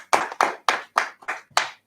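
A congregation at a Sabbath service claps in a tight, even rhythm, six crisp, close claps in under two seconds with no talking over them.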